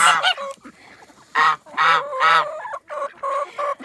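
Geese in a backyard coop honk in several loud, close bursts, short nasal calls coming in an uneven run, with brief quiet gaps between them and no talking.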